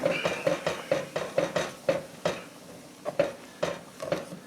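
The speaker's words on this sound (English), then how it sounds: "So just scrub the bottom, get all those little sticky bits off the bottom." A utensil scrapes and knocks against the bottom of a pan while beef stew is deglazed, making a steady run of short, evenly spaced scraping clacks, close and moderately loud with no voices.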